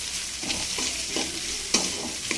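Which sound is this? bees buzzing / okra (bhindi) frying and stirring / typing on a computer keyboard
okra (bhindi) frying and stirring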